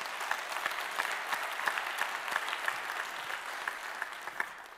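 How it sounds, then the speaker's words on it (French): Steady applause from an audience at a talk-show style event after a guest's testimony, a dense even wash of many hands clapping at moderate distance, with no voices over it. "On peut l'applaudir, vraiment."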